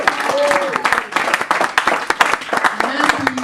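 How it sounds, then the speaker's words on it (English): Audience applause in a room at an edutainment evening event, dense clapping throughout with a few voices talking over it. "Can we give a round of applause to Kimber?"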